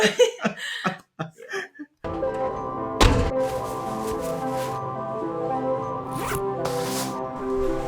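A clothing zipper is pulled in quick close rasps, first as a brief run of short strokes and then as one sustained zipping sound that carries on for several seconds.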